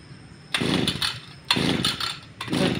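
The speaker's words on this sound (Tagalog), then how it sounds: "Grass cutter ito ng barangay guys." A borrowed barangay grass cutter's small engine pulled over three times in rain-damp weather, each rough sputtering burst of roughly a second failing to catch, loud and close.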